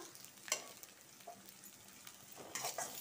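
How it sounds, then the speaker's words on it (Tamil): Cabbage stir-fries in a pan with a faint, soft sizzle and a few brief scraping stirs of the spatula, quiet and close with no talking. "கோஸு போட்டு வதக்கிக்கலாம்."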